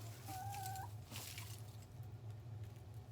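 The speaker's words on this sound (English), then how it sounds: "And we still have those chickens." Chickens cluck and murmur nearby, with a short higher call near the start, over a low steady hum.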